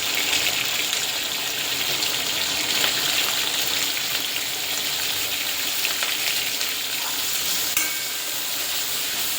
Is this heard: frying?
yes